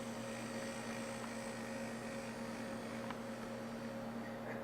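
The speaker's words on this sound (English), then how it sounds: "That really nice, reassuring grunt and whir from the motor." A high-quality motor in a Dapol Class 52 Western model locomotive gives a quiet, steady whir with a faint underlying grunt, constant and close throughout with no talk.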